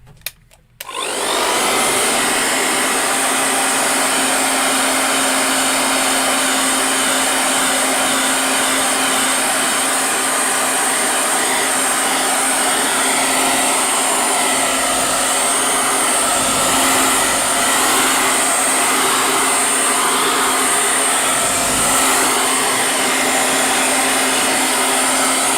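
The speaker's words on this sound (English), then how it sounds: "I don't like using a hairdryer on watercolour" A loud, continuous hair dryer blows steadily on watercolour paper for the whole stretch after a short start-up, its airy roar unbroken and close by.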